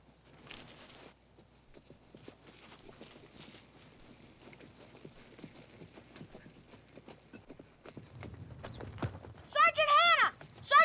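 Horse hooves clip-clopping in a steady rhythm, soft and somewhat distant, with a few louder hoof strikes and a sharper vocal sound near the end.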